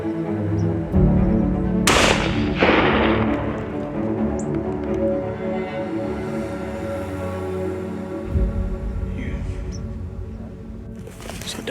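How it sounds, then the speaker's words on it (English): A single sharp rifle shot fired at a big nine-point buck during a Kentucky rut deer hunt cracks out loud and close, with a brief echo trailing off across open ground, set against steady outdoor background noise. "So Dad just shot at one"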